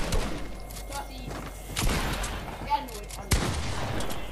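Gunfire rings out in a Fortnite Zone Wars match, a few sharp broadband cracks near 1.8 and 3.3 seconds over steady game noise, with players talking around the shots.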